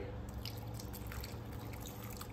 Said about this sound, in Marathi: आता त्याच्यामध्ये गरम पाणी घालते